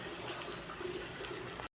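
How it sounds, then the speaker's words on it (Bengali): Water poured into a pan of spiced fish curry made with fenugreek, a steady close splashing pour that runs for under two seconds and then cuts off. "এখন আমি জল দিয়ে দেবো।"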